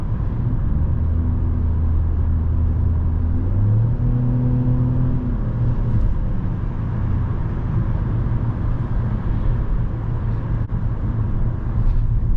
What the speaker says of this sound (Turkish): Teker yuvarlanma sesi duyuyorum